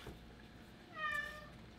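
A single clear, close meow from an indoor cat, rising then falling, heard alone against a quiet room background.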